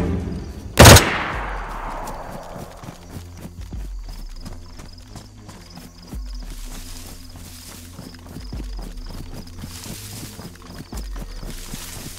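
Footsteps crunch in a steady rhythmic walk in DayZ, following a single loud gunshot crack near the start, then continuing at moderate volume over a faint ambient hum.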